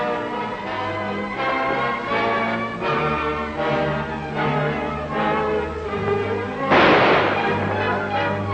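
A single sharp gunshot bursts out in a Western shootout set in California, loud and close, cutting through a sustained orchestral music score.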